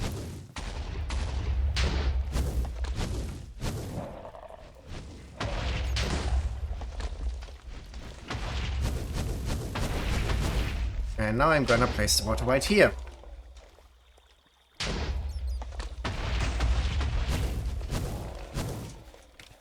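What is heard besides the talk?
explosions from the Wither in the video game Minecraft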